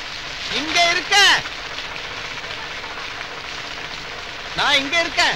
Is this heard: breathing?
no